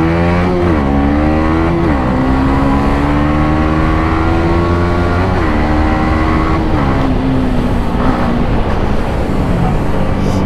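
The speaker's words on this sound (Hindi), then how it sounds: "इस बाइक को मैं जितना रेड लाइन करके चलाऊँ ना भाई, बिल्कुल मज़ा सा आता है" A motorcycle engine is ridden hard and revved toward redline, its harmonics climbing through repeated gear pulls with brief drops at each shift, loud and continuous with wind roar throughout.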